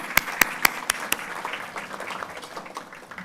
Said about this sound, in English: if you'll give them a round of applause